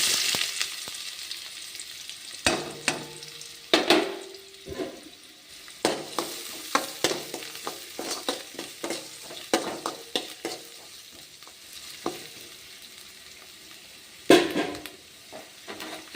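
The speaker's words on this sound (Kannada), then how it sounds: "ಇವಾಗ ಈರುಳ್ಳಿ ಹಾಕೋಣ" Chopped onion fries in hot oil for a radish greens curry, a steady close sizzle broken by repeated sharp clacks of stirring against the pan.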